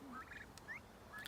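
Turkeys gobble in a tiered flower and vegetable garden, several short warbling calls spread over a second or so, faint and somewhat distant, with no talking.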